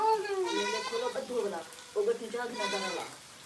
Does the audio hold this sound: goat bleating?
yes